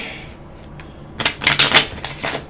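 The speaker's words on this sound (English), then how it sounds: "So let's shuffle up the title deck." Title cards for the board game Gloom of Kilforth: The Call are shuffled close by, a brisk riffle of papery flutters and snaps after a quiet start, with no talking.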